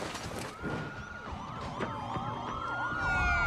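Police car siren approaching on a street, a loud wailing tone sweeping up and down with layered echoes, growing louder near the end over a low rumble of traffic.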